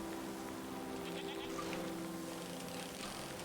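Goats bleat in a calm farm area of the video game A Letter To The Future, with repeated wavering calls sitting over a soft ambient background and no one talking.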